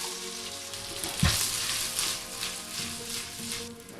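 Chopped carrots and onion hitting a hot pot with a sudden thump, then sizzling and crackling steadily, fairly close, with light stirring scrapes.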